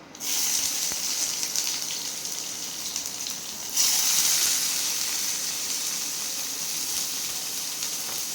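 Cumin, bay leaf, dried chili and onion sizzle in hot oil in a pan, a steady bright hiss that jumps louder partway through as more ingredients go in, then keeps frying continuously.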